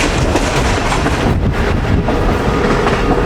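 The Awam Express, running between Karachi and Peshawar, roars along the rails with a loud, steady rumble and faint clatter of wheels, heard close up and continuous with wind noise and no talking.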